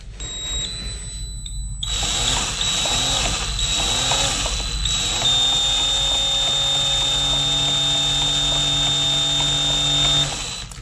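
A power drill whirs close by while making melt and pour soap, starting with a few short bursts and then running steadily in a long sustained whine before cutting off.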